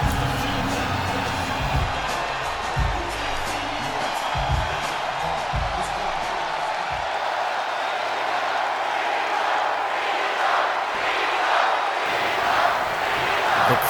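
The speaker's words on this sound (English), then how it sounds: "The crowd here's firmly behind Cena as we get going here" An arena crowd in the WWE 2K 2008 wrestling video game roars and cheers steadily behind a match, a dense continuous wall of noise with occasional thuds from the ring.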